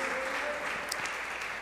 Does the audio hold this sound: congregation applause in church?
yes